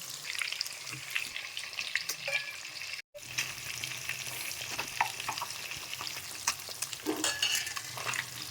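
Pond fish fry in hot oil, a close, steady crackling sizzle with scattered pops and occasional stirring clinks, continuing for several seconds with one brief dropout.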